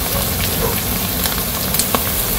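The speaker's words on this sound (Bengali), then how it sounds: "গুঁড়া মশলাটা একটু কষিয়ে নিয়ে তারপরে দিয়ে দিব মাংসগুলো" Ground spices sizzle in hot oil with ginger-garlic paste, salt, turmeric and red chili powder for a village-style mutton curry, giving a close, steady frying crackle with a few sharper pops.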